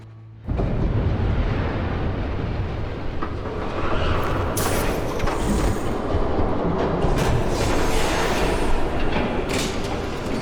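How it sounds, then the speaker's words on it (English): A train approaches in Batman: The Telltale Series, rising abruptly from near quiet into a loud, sustained rumbling roar with brief clattering surges that carries on without letup. "There's a train coming."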